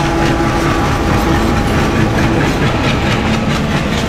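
The Sirajganj Express rumbles past on the rails in a loud, steady roar with faint rhythmic clatter of wheels, continuous and close with no voices over it.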